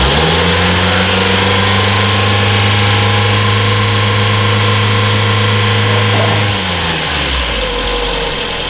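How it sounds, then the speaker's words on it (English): A Mazda 626 engine with its headlights switched on is held at raised revs, giving a loud, steady drone with strong low harmonics. Near the end it drops back toward idle. "We'll bring the revs up."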